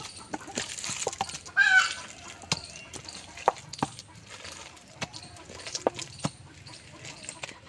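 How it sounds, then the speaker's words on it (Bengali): Palm fruit pulp is squeezed and mashed by hand with a splash of water in a village kitchen. Scattered wet squelches, slaps and drips come at irregular intervals close by, with a faint bird cluck in the background. "হাত দিয়ে সুন্দরভাবে চটকানো হয়ে গেছে"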